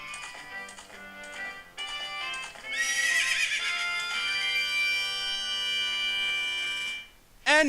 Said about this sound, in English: And now we have a horse.